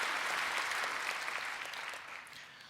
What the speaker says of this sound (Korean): 이제는 우리 감사하다는 박수를 좀 해주실까요?